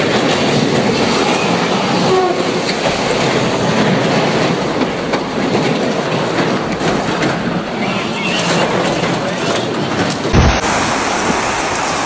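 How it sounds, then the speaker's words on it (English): A freight train in Washington state rumbles loudly and continuously with rhythmic clickety-clack of wagons on rails, close and steady throughout, with a brief sharp thump near the end. "In Washington state, a massive mudslide derailed a freight train."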